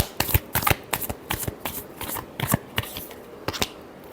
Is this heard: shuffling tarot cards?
yes